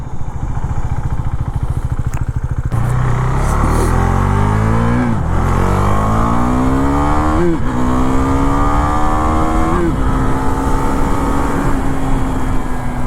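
A Husqvarna 401 Svartpilen motorcycle rides and accelerates close by, its engine note climbing through repeated rising revs and gear changes, loud and continuous with no talk.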